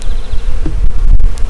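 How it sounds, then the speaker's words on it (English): Honey bees buzz steadily and close during a package installation, a dense continuous drone with brief louder swells from bees near a syrup can, and no talking. "I'm going to sweep these excess bees off of this can of syrup."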